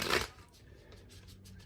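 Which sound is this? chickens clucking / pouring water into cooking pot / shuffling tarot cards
shuffling tarot cards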